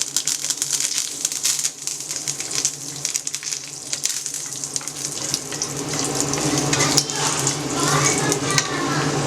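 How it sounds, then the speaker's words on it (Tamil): Curry leaves hitting popped mustard seeds in hot oil for Tamil tomato rice, giving a loud, steady crackling sizzle that holds throughout and grows slightly stronger toward the end. "கடுகு பொரிஞ்சிடுச்சு, கருவேப்பிலை போடுறேன்."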